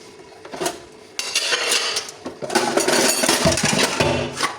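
Freshly washed metal pots, pans and utensils in a home kitchen are picked up and stacked, with continuous clattering, clinking and scraping close by, growing busier and louder partway through.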